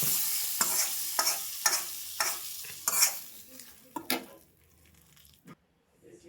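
Hot tempering poured into Telangana-style pacchi pulusu, a raw tamarind rasam, sizzles loudly with bursts of stirring clatter, then fades to quiet near the end.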